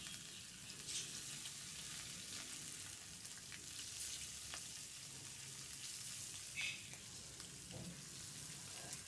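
Fish fries in hot oil, giving a continuous soft hiss with scattered small pops and crackles, fairly quiet, with no talking.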